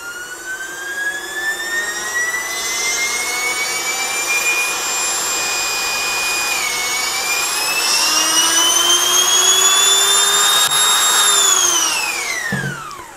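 A DIY barrel cooler blower runs steadily, blowing air through tubing with a loud, high-pitched whine that slowly rises in pitch, then winds down near the end.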